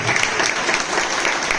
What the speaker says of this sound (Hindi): थोड़ा जोश से ताली दो यार।